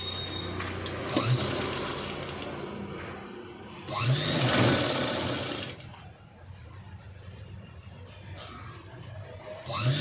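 A sewing machine stitches sleeves onto a princess cut blouse in short bursts of fast whirring, with a long run in the middle and a brief start at the end, over a quiet room background.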